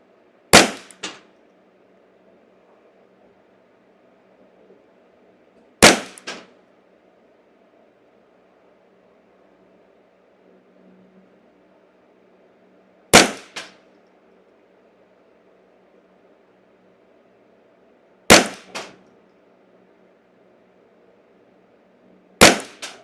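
Single shots from a Ruger 10/22 Custom Shop rifle firing CCI standard velocity .22 rounds crack out sharply at irregular intervals of several seconds, five reports in all, each with a short echo, over a low steady background hum.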